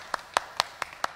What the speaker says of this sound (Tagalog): Sige po, yung malakas na palakpak, bigay natin kay Lord.